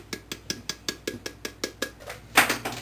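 A cream cheese and powdered sugar filling for a pumpkin roll being mixed in a bowl, with a quick, regular series of clinking taps of a utensil against the bowl, close and clear.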